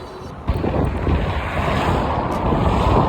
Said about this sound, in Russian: Дует ветер в спину, слава богу, но он такой очень теплый.